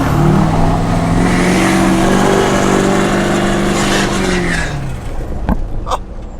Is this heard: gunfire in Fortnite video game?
no